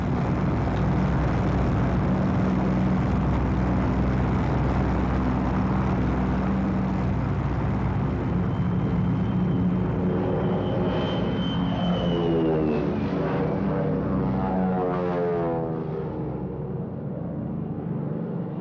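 Engines of a P-38 twin-engine World War II fighter drone loudly and steadily, then sweep in pitch as the plane passes and fades toward the end. No voices are heard.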